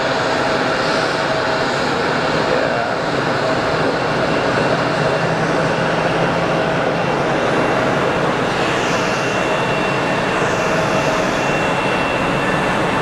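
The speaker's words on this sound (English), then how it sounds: "Embraer 175" An Embraer 175 jet at Geneva Airport gives off a loud, steady, broadband engine roar that lasts the whole stretch with no talk over it.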